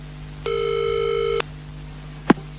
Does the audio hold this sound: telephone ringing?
yes